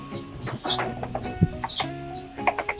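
Birds chirp and call intermittently in the open air during outdoor cooking, short scattered notes with a few clucking or cooing sounds mixed in.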